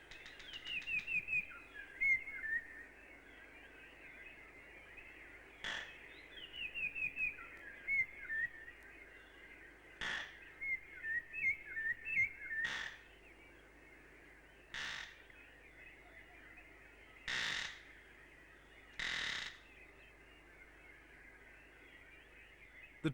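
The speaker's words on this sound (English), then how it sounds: "Around 300 species of birds visit or live in the garden." Birds calling in a garden in Africa, a place visited by around 300 species: harsh, crow-like caws come in short separate bursts, with warbling chirps between them, set against a quiet background.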